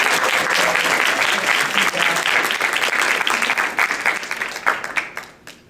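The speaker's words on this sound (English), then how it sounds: "Can we get a round of applause for the judges, please?" Enthusiastic applause from an indoor audience at an awards event, dense steady clapping that carries on for several seconds and then thins out and fades near the end.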